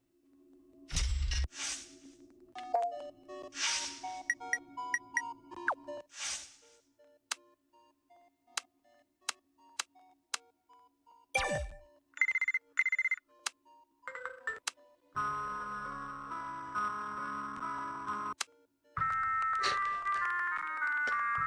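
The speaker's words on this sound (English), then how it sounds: "I forgot to put the ringtone back on." Phone ringtone in the video game Buried Stars, a sequence of chimes and tones mixed with sharp ticks and a sustained melodic ring near the end, close and clear, no talking.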